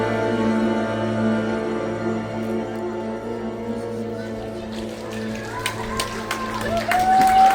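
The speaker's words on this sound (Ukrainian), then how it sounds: "Ваші оплески" As sustained music fades after a solo dance performance, scattered audience applause rises with sharp individual claps and grows denser toward the end, moderately loud under the lingering tones.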